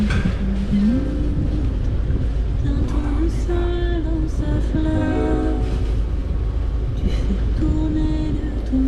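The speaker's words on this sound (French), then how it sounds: "on est au moteur pour sortir du chenal" A sailboat's auxiliary motor running while leaving a channel: a steady, loud engine drone runs throughout with a constant low rumble, joined by shifting tonal whines and some background noise.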